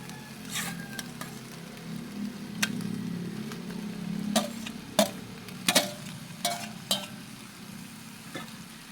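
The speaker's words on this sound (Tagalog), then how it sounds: "ilalagay na po natin itong hiniwang kamatis" Sliced tomatoes sautéing in a pan for ginisang kamatis, a soft continuous sizzle with scattered sharp clicks and taps of a utensil against the pan.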